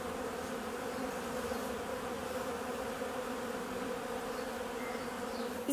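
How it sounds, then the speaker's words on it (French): Honeybees hum steadily around an opened hive while honey is harvested, a continuous close droning buzz that stays even in level throughout, with no voices. "Il y a encore une abeille là."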